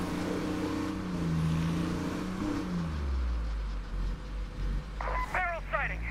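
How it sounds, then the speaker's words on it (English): A car in the video game State of Decay 2 drives and revs, its engine rumbling at the low end and growing heavier partway through, with brief chirping effects near the end. "Let's try and get it with the car."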